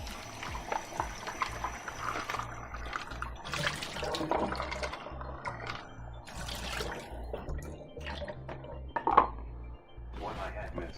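Quinoa rinsed under a running kitchen tap, water splashing steadily against a sink with dishes clinking now and then, close and moderately loud, with brief talk over parts of it.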